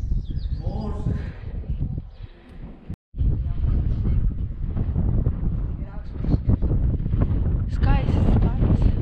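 Strong wind buffets the microphone at an old hilltop fortress in Elvas on the Portugal–Spain border, a steady rushing roar with a brief dropout, while people talk over it.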